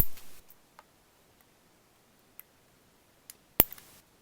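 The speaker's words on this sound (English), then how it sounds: "I'm going to use my nail clippers and I'm going to cut it off." Nail clippers snip orthodontic brace wire in a quiet room, giving a few faint scattered ticks followed by one sharp, loud click near the end.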